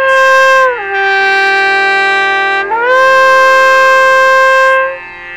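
A Firebird trumpet, a valve-and-slide hybrid, sounds a sustained note that drops down a few steps to a lower pitch, holds there, then slides back up and holds before stopping, bright and loud with no talking.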